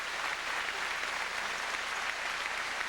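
Home crowd applauding steadily at the 2004 men's world curling championship final between Germany and Sweden, a dense, even wash of clapping that fills the arena without pause.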